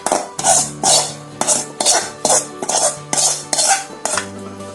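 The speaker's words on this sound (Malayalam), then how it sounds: "ശരിക്ക് ഇളക്കിയെടുക്കണം." A spoon stirs a cooked broken wheat cutlet mixture in a bowl, giving about ten rhythmic scraping strokes, each with a metallic clink against the bowl, loud and close with no voices.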